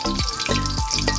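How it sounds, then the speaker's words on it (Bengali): Cumin, dried red chilli and bay leaf crackle in hot mustard oil for a chicken kosha, a brief, loud, continuous sizzle close up. "তেলটা গরম হয়ে গেছে। একে একে আমি অ্যাড করব ফোড়নের জন্য জিরে, শুকনো লঙ্কা ও তেজপাতা।"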